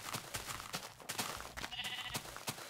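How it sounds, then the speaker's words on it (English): Sheep bleating in Minecraft, a faint, distant game sound heard once or twice over a low background, with no talk. "Now there's a sheep way up there."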